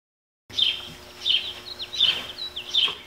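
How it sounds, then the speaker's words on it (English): Birds chirp close by in a series of about four bright, evenly spaced call phrases with smaller chirps between them, fairly loud and clear, with no talking. "now I got birds? Seriously?"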